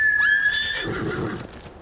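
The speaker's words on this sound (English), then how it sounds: "He's a terrible stopping horse." A horse in the video game Ghost of Tsushima gives a single loud, close whinny that rises, wavers and trails off, with faint hoof shuffling after it.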